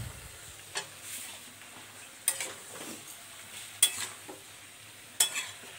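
Watermelon rind vegetable is stirred and fried with spices in a pan, giving a soft sizzle under a few distinct spatula scrapes and taps at uneven intervals; no voices.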